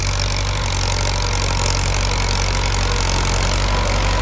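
A Ford 6600 tractor fitted with a seven-disc plow works overgrown grass, its engine a loud, dense, steady drone close by throughout, with no talking.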